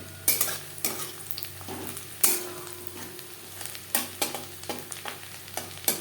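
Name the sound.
chopped onions frying in a pan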